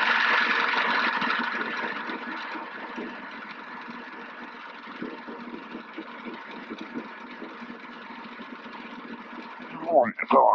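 A Robinson R22 helicopter's piston engine idles steadily on the ground before shutdown, a continuous mid-pitched drone that eases slightly in loudness, with a brief clunk near the end.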